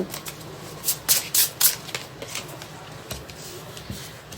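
Tarot cards shuffled by hand during a reading, a run of quick riffling bursts clustered together, then lighter scattered flicks, close and crisp with faint background sound.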